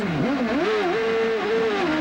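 A 1995 CART race car engine revs hard, heard onboard, pitch dipping and climbing as it shifts, then holding a high sustained whine, loud and close.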